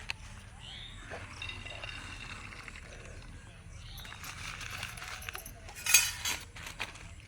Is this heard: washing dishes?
yes